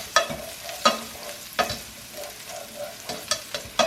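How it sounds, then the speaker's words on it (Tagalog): Bottle gourd and ground meat sauté in a hot pan with a steady sizzle, punctuated by regular scraping stirs of the spatula, close and clear. "Magigisa ako."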